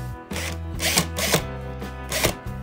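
A Lidl Parkside 20V cordless drill driver runs nearby in short revving bursts, its motor whine rising and falling several times with loud, close surges.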